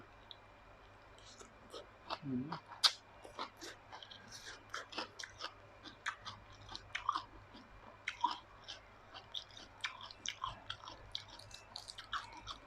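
Close, crunchy chewing and biting on a dry, spicy Thai-Lao pounded bean salad, with a steady run of sharp crisp clicks and mouth noises over a low hum, and no talking.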